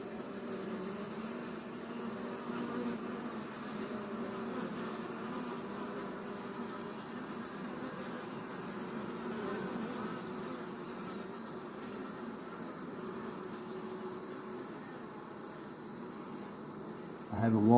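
Honeybee swarm settled on a table top outdoors, some bees fanning, giving a steady low droning buzz throughout, fairly faint and even, with a brief louder knock at the very end.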